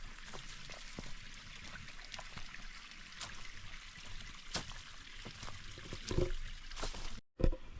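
Soft trickling water of a gently flowing brook in Pleasant Valley near Lenox Mountain, a quiet continuous babble outdoors with faint scattered ticks and a brief louder burst near the end.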